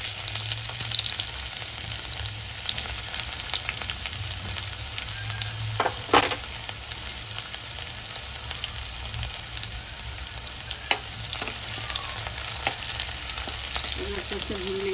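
Garlic and onion frying in oil in a kadai, a steady low sizzle with soft crackles and an occasional stir, moderately quiet and continuous, no voices.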